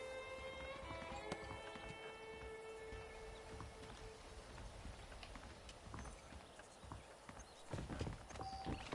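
Rhythmic hoof clip-clop of saddled horses trotting in Red Dead Redemption, steady and fairly close, with a musical drone and game ambience layered underneath; no speech.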